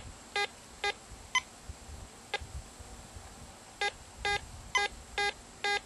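Fisher Labs F70 metal detector in slow mode sounding a target signal: a series of short, clipped electronic beeps in an irregular rhythm, two early, one more, then a quicker run of five, over faint background noise.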